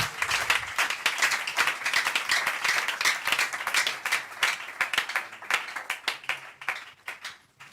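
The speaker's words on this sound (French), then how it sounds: "Acclamez pour le roi de roi." Church congregation applauding and cheering in a worship service: dense, sustained clapping from many hands fills the space, with scattered cheers mixed in, steady and loud throughout before thinning slightly at the end.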